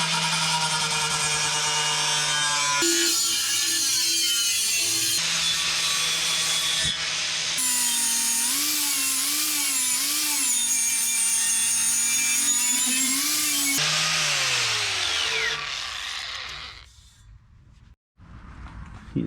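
Angle grinder stripping black and green paint off a steel part being made into a kalimbass, a loud continuous whine with shifting pitch and short breaks, fading out near the end.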